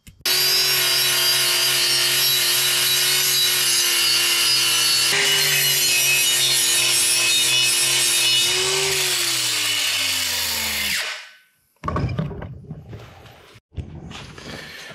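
A homemade Parkside chassis sandblaster strips two metal parts with a long, loud, continuous hiss and grinding rush that shifts pitch slightly. It cuts off abruptly near the end, followed by brief clattering handling noises.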